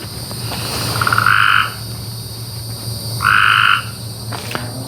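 A tree frog gives two loud, raspy trilling croaks a couple of seconds apart, each lasting about half a second, over a steady hum of night insects.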